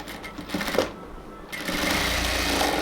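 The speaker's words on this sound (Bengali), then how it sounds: "এই কাপড়টাকে আমরা হচ্ছে এদিকে ফোল্ডিং করে সেলাই করে নেব যাতে এটা বাহিরের দিক থেকে দেখা না যায়।" A sewing machine stitches folded salwar fabric, running in short bursts with a brief pause before settling into a steady close whirring hum.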